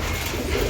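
A Ghatal pigeon that has recovered from a twisted-neck condition gives a short, low, muffled coo, close and moderately loud.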